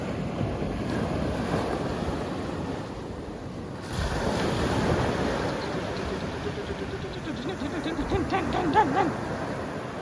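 Ocean surf rolls and breaks in repeated rushing surges on the shore during a strong current, with heavy wind buffeting the microphone throughout.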